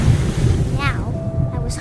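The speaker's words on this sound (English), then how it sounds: "I rolled off the cliff and into the ocean." Ocean waves surge and wash steadily with wind noise in the video game What Remains of Edith Finch, heard after rolling off a cliff into the sea, loud and close, with a faint rising tone near the end.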